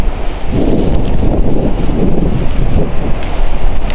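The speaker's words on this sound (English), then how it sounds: "It's a little windy out." Strong wind buffets the microphone outdoors on an opening-day rifle hunt, a loud, close, gusty rumble with no voices.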